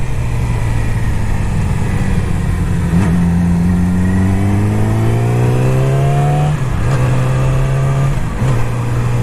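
Yamaha R6 motorcycle in standard mode accelerating hard off the line, a loud, close engine note rising steadily through gears, with brief dips at each shift and no talk.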